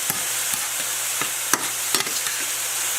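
Ground turkey cooking in a pan, producing a steady frying hiss with scattered sharp taps and scrapes of a utensil stirring the meat.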